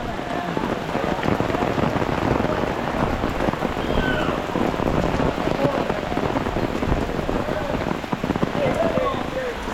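Heavy rain pours steadily onto surfaces outdoors at a temple in Gaibandha during a downpour, a dense continuous patter with no gaps, with people's voices faintly present under it.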